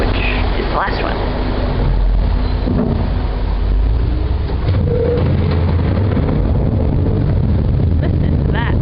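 From inside a city bus in England, the engine sits close by and gives a loud, constant low rumble and drone. Road noise and rattles ride on top of it, and voices talk faintly now and then.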